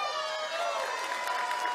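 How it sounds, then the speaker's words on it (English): Thin, weak applause mixed with scattered cheering from a crowd at a CPAC political event, a steady wash of noise lasting under two seconds with a sustained tone running through it. "That pathetic applause and cheer sounds like something from a kid's TV show."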